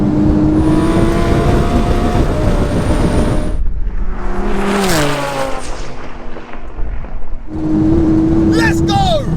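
A 1200 hp Porsche 911 Turbo S and a 1000 hp twin-turbo Lamborghini Huracan race on the street, engines roaring loud and near with a sustained high whine, a downward gear-shift sweep, then climbing again amid wind and a voice.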